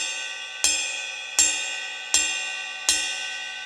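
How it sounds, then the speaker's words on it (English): Four evenly spaced metallic pings of a stick striking a ride cymbal bell, each ringing out bright and sustained before the next hit. "whenever I'm playing the bell of the ride cymbal"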